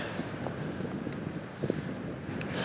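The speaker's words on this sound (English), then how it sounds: "the way the wind's blowing right now" Wind gusting across a microphone outdoors in the Arizona sky island mountains during a hunt, a continuous low rumble with a few soft buffets and no speech.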